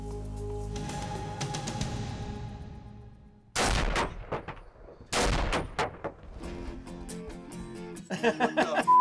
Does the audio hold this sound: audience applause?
no